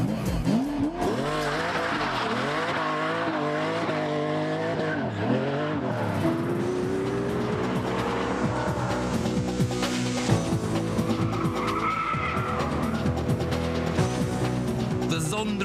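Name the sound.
Pagani Zonda S supercar engine and driving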